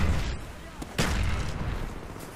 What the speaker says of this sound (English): a gun that does burst firing